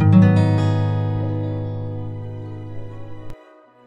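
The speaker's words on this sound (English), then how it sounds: "And number three, it's a guitar." A single guitar chord is strummed once and rings out, its bright harmonics slowly decaying for about three seconds before being damped to silence.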